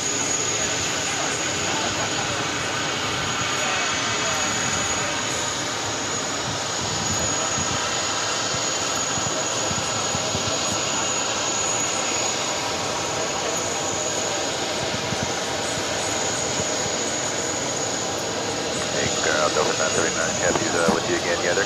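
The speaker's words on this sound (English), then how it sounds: "One world livery on the American 777, about to touch down at 22 left." American Airlines Boeing 777 in Oneworld livery touching down on runway 22 Left at JFK, a steady broad engine roar with a thin high whine throughout, heard under people talking.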